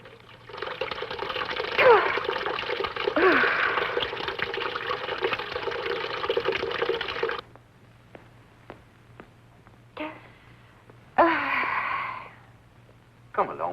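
Water runs and splashes steadily for several seconds as someone washes their face, then fainter drips and two short splashes follow, with no talking.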